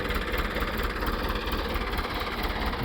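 A freshly started farm tractor, used for sowing wheat and puffing light smoke, idles with a steady close mechanical rumble and a slight rhythmic knock throughout.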